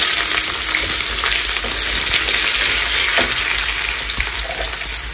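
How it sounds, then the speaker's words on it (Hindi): Onions and curry leaves frying in hot oil after tempering spices, a loud, dense crackling sizzle up close, with a few clinks of a utensil against the pan. "सारे प्याज डाल के इन्हें भुनेंगे अच्छे से"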